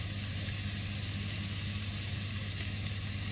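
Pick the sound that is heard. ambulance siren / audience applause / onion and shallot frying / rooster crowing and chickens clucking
onion and shallot frying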